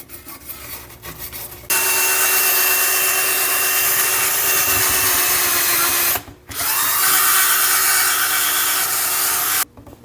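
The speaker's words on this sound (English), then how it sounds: "Clean these shoe pads off with a wire brush." A wire brush scrubs the brake shoe pads of a Ford 9N/2N tractor, making a loud, steady, harsh abrasive whir in two long sustained bursts separated by a brief pause, with no talking.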